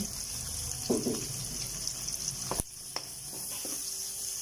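Two medium chopped onions frying in a pan, a continuous moderate sizzle with a few stirring scrapes and a sharp clank partway through.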